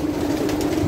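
Breeding pigeons imported from Germany, blue and Vandenabeele-line birds in a loft, coo in a steady low murmur, several close birds overlapping without pause through a brief moment.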